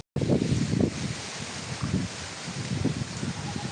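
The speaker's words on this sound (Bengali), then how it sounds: "দেখুন কিভাবে ঝড় হচ্ছে" Strong storm wind from Cyclone Remal roars and buffets the microphone in steady gusts, loud and close, with a rustling texture like leaves or water and no voices.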